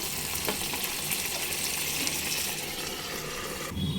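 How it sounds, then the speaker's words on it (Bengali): Hot water goes into a pan of simmering country chicken curry with new potatoes, making a dense, loud hiss and bubbling that holds steady. It shifts abruptly near the end. "এবার আমি এই পর্যায়ে এসে অল্প একটু গরম জল দেবো হাত কাপ মতো দিয়ে ঢাকা দিয়ে দেবো"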